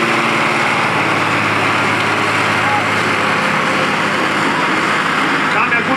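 A modified tractor engine roars loud and steady through a pulling run at a German tractor pulling championship, high-revving and continuous from start to finish, with a commentator talking over it.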